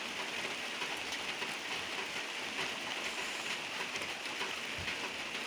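Steady rain falling on a chili field in heavy wet-season weather, a soft even hiss of drops with no voices.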